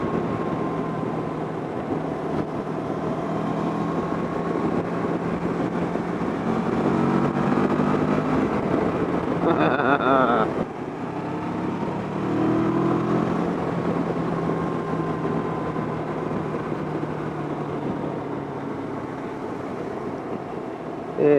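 A motorcycle is ridden on a winter road, heard as a steady, continuous drone of engine and wind rush that swells slightly midway and holds on for the whole stretch.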